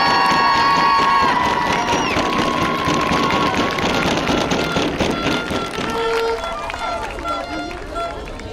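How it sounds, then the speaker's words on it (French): Crowd at a women's handball French Cup awards ceremony applauding and cheering the prize winners, a dense, steady roar of claps and voices filling the space loudly throughout. "je pense qu'on peut encore les applaudir bien fort"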